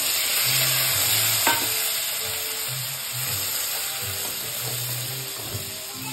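Catla fish pieces fry in a pan with masala, giving a continuous loud sizzle and hiss, with repeated scraping stir strokes and faint clinks coming through at a close, even level.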